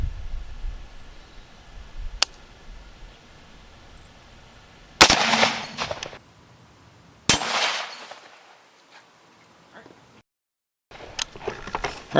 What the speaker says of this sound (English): next we're hitting it with one round of green Tip M855